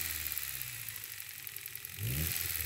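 Car engine held steady at around 3000 RPM during knock sensor calibration for a standalone ECU tune, a continuous mid-pitched whirring drone that swells louder near the end as the revs climb briefly.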